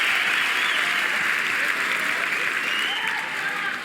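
Applause from the crowd at a George Carlin stand-up comedy performance fills the room, a sustained roar of clapping that stays loud and uniform, dipping slightly near the end.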